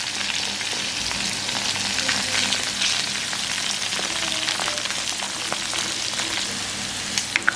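Pieces of cuttlefish frying in hot oil, giving a dense, constant crackling sizzle with scattered pops, loud and close throughout and heard alone.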